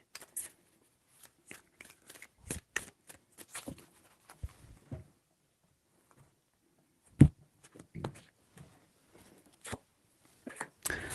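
Quiet bursts of tarot cards being shuffled, a series of brisk riffling flutters separated by short pauses, close and fairly soft.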